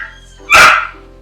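A single short dog bark, bright and toy-like, from a sound toy or sound book, loud and close, with a faint steady tone under it.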